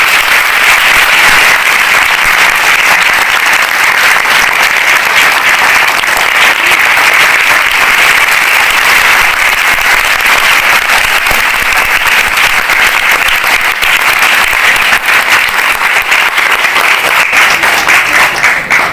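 Children in an audience at a stage play clap hard with both hands, a loud, sustained, dense roar of applause that holds steady and unbroken for nearly twenty seconds.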